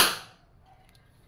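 A single shot from a Wingun 708 CO2 airsoft revolver fired in double action: one sharp, close crack that fades quickly into near silence.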